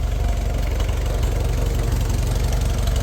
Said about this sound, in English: Here we got a vintage tractor showing up.